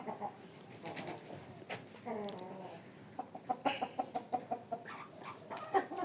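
Chickens and roosters at a poultry yard, with a run of rhythmic clucking and short calls growing louder in the second half, plus a brief crow-like burst, close to the microphone.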